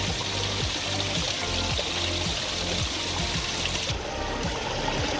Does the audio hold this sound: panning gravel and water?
yes